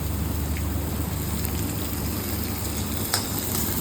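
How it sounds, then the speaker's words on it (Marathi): Onion and carrot fry in oil for masala oats, producing a steady, dense crackling sizzle heard up close, with a faint clink of stirring now and then. "कांदा आपण टाकणार आहोत जो मगाशी कापला होता तो त्याच्यानंतर गाजर आणि हे व्यवस्थित पूर्ण तेलामध्ये हे व्यवस्थित हलवून घ्यायचं"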